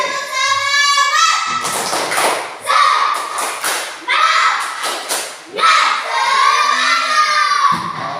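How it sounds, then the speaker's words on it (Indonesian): Schoolchildren in an Indonesian classroom do a rhythmic encouragement clap, with bursts of clapping and thumping mixed with loud group chanting and shouts in a close, lively room. "bagaimana kalau kita memberikan tepuk semangat dulu sebagai tanda lebih semangat lagi dalam belajar pada hari ini"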